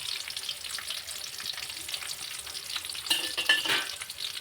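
Ginger, red chili and spices sizzle and fry in a pan for matar paneer while a utensil stirs them steadily, close and clear, with a brief louder scrape-and-sizzle burst near the end.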